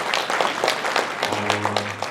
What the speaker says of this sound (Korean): 박수 한번 다시 부탁드리겠습니다